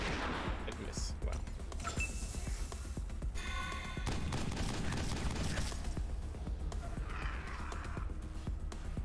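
Bursts of gunfire in Wasteland 2 turn-based combat, repeated sharp reports and thuds with clanking mechanisms, loud and close, with a voice speaking over the action.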